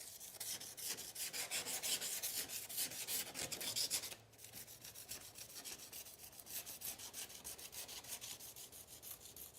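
A light hand scuffing of a painted clear coat surface, heard as close, repeated rasping strokes in a steady rhythm that drop briefly to quieter rubbing midway, faint overall with no talking.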